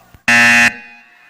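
Loud electric game-show buzzer in the style of Family Feud, a single harsh, bright blast lasting about half a second and ringing out briefly afterward in a room.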